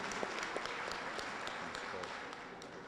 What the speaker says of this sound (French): je voulais qu'on applaudisse très fort